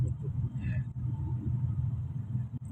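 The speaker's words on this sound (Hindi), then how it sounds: "सड़क पे ट्रैफिक तो है" Road traffic heard from inside a moving vehicle in a busy local area, a low steady engine and road rumble close by, with a person talking over it.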